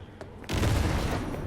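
A grenade explodes among a group of enemies in Cyberpunk 2077, a sudden loud blast after a quiet lead-in, followed by a sustained rumbling, crackling roar that fades only slightly.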